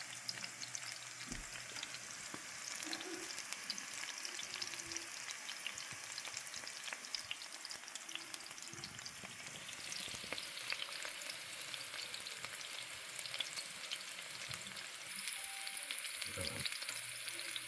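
Chicken patties packed into bell pepper rings frying in a pan, giving a continuous dense sizzle and crackle with a few faint knocks, steady and close throughout.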